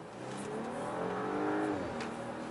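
Audi A8 55 TFSI (2018) under full-throttle acceleration, a loud, steady engine note with rising harmonics that climb continuously over a couple of seconds, heard without any talking.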